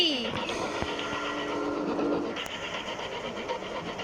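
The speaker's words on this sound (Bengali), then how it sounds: "এত জোরে কেন যাচ্ছে ট্রেন?" In Poppy Playtime Chapter 2, a game train speeds along with a steady rolling rumble, rhythmic track clicks and a brief high warning tone, heard under a person talking.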